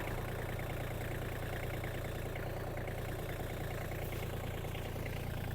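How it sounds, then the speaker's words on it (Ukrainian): Iseki Geas 30 mini tractor engine running with a rotary tiller attached, a steady, even low drone at close range with no talking. "Зараз трішки опустимо фрезу."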